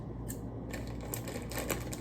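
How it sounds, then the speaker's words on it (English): Scissors snipping and cutting open a cardboard cupcake mix box, a quick run of crisp, close clicking and rustling cuts against steady background hum. "So now I'm going to take my scissors,"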